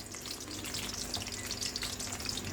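Eggplant slices fry in oil with a dense, even hiss and fine crackle, quiet and continuous throughout with no speech.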